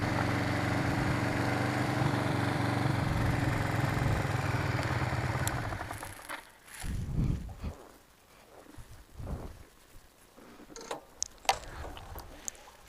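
A 2006 Kawasaki Vulcan 500 motorcycle idles with a steady, close, low engine rumble for about six seconds, then shuts off, leaving quiet handling noises and light knocks.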